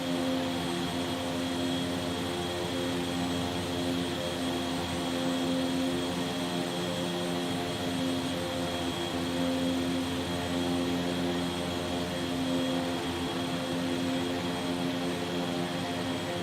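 Twin Blackhawk-engined King Air C90B turboprop droning steadily in a flight simulator, a constant even engine hum with tonal whine held for the whole stretch, no voices.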